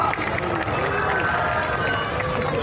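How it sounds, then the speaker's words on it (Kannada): An excited audience at a Kannada stage show in Jayanagar keeps up a continuous roar of clapping mixed with shouting and cheering voices, dense and unbroken throughout. "ಚಪ್ಪಾಳೆ ಜೊತೆ ಸೌಂಡ್ ಮಾಡಬೇಕು"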